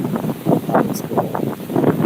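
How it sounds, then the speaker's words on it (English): Gusty wind buffeting the microphone on a pier at Lake Pontchartrain during Hurricane Francine, loud rumbling bursts that rise and fall in uneven surges, with no talking. "It is dry. It is a dry wind on the other side."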